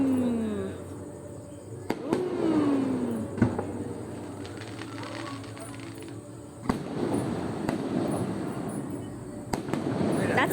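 Fireworks at a professional, organized show go off in loud, booming bursts, several sharp bangs spaced across the span with crackling tails, while people chat nearby.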